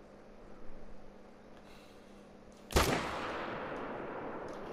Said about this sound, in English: I'm really hoping that was a vital shot